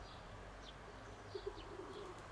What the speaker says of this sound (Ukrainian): Голубиша в небі.